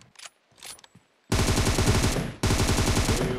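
Loud automatic gunfire in a shooting video game, bursting in abruptly after a few quiet soft sounds and running as a dense rapid volley, briefly cutting out and resuming.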